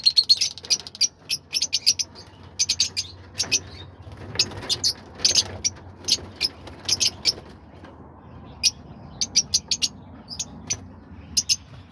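Fischer's lovebirds in an aviary giving rapid bursts of shrill, high chirps in clustered volleys, close and loud, with short gaps between calls and no talking.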